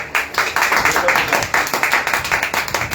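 A crowd at a public gathering claps for the newly named president of the Ambernath taluka transport association, with dense, rhythmic claps close by that continue steadily while voices talk over them.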